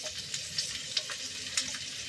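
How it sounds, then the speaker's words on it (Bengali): Chopped garlic frying in a pan for muri ghonto, a soft continuous sizzle with a few light clicks of a spatula against the pan. "রসুনটা দিলাম। একটু ভাজা ভাজা হয়ে যাক।"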